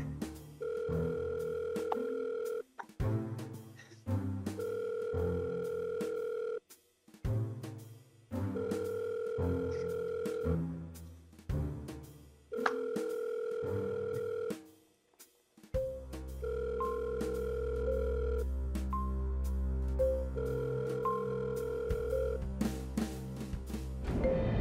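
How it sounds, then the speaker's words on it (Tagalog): A cellphone being called rings through a receiver in a repeating pattern of steady electronic ringback tones with short pauses, then a longer ringing stretch, faint and thin. "Bakit hindi mo subukan tawagan yung cellphone ni Ransom?"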